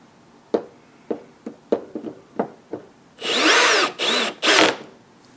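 A power drill with a reduced clutch setting drives screws into pre-drilled, countersunk wood, first a series of sharp knocks and clicks, then three close, loud bursts of motor whir.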